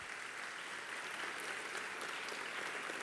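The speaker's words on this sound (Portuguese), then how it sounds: "Eu vou pedir um aplauso à vida dessas pessoas que aqui estão." A church congregation at a large convention-centre service in Brazil applauds, steady dense clapping filling the hall for about three seconds without a break.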